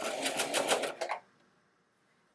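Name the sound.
sewing machine stay stitching a neckline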